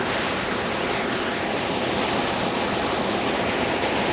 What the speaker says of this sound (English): it's not really a waterfall, is it? More like some water over some stones